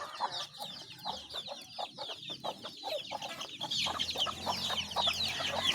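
Chickens cluck steadily with overlapping calls from several birds nearby, no talking.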